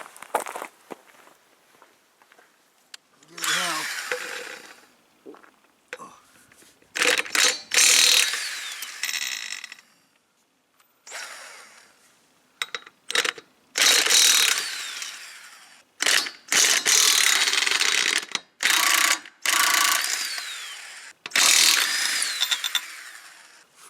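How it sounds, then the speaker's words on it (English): Ratchet wrench removing the wheel bolts on a Kubota Z412 zero turn mower, repeated bursts of rapid close clicking separated by pauses and short metallic handling noises, loud and without talk. "we're going to take the wheels off because I think it'll just be easier to get to things"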